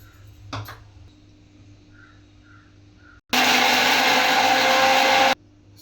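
A mixer grinder whirs loud and steady for about two seconds as it grinds turmeric powder for greens and sprouted horse gram, starting and stopping abruptly after a few faint kitchen clinks.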